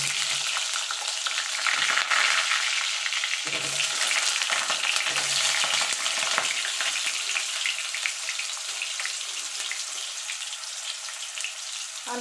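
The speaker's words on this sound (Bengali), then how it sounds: "এবার আলুটা আমি ভেজে নেব।" Potato pieces fry in hot oil with a loud, continuous crackling sizzle heard close up, broken by a few brief stirring knocks and no voices.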